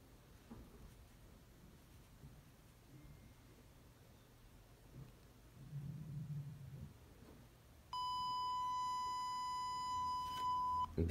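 A phone's earpiece speaker plays a steady electronic test tone, which begins abruptly after several seconds of quiet room noise and then holds at an even, fairly loud level to the end.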